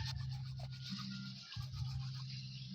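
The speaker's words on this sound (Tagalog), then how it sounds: "Ganyan mag-toothbrush" A toothbrush scrubs back and forth against teeth in short rhythmic strokes, soft and close, with a low hum underneath and a brief break midway.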